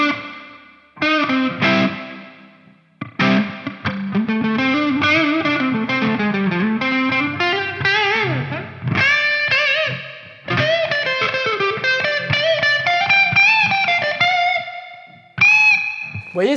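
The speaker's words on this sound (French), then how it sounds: "On va essayer quand même la Spring Reverb pour voir ce que ça donne." Electric guitar played through a Neunaber Expanse pedal on its spring reverb setting, with sustained chords and single-note phrases blooming into a long, washy tail, played alone with short pauses between phrases.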